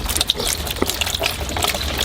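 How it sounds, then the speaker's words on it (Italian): Leftover water gushing and trickling out of the disconnected pipes of a swimming pool sand filter pump after the valves are closed, a steady close splashing flow. "Ovviamente un po' di acqua esce perché è quella che è rimasta nei tubi."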